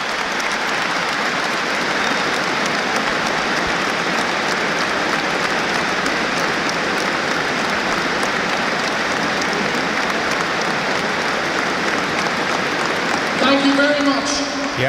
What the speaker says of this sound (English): We're going to have a moment of applause for Dr. Bill Mulcahy, a great of Ireland and Lions rugby, who died at the end of last month, age 90.